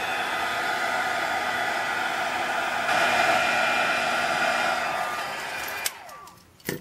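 A heat tool blows steadily at close range, melting clear embossing powder on a stamped craft tag, a continuous breathy hiss that holds level and briefly swells before switching off near the end.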